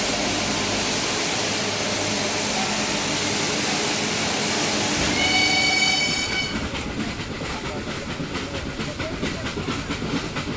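A steam-hauled toy train on the Mettupalayam to Ooty mountain railway rumbles and hisses loudly, with whistle-like tones appearing, then shifts into a rhythmic clatter of wheels on track.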